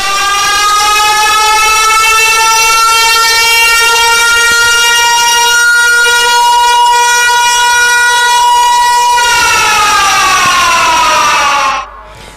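A loud buzzer horn at the start of a bullock cart race blares in one long continuous tone, steady for many seconds, dipping slightly in pitch before cutting off sharply.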